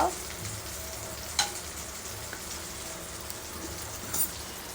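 Cloves and cinnamon fry in a pan with a soft, steady sizzle, and a sharp metallic clink sounds once early on.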